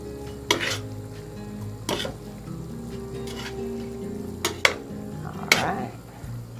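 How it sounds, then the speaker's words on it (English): Cooked spaghetti tossed with olive oil in a pan, a quiet sizzling stir under several sharp clinks and scrapes of a utensil against the pan at irregular intervals. "I'm gonna give it a good toss. Make sure the olive oil's on all of it."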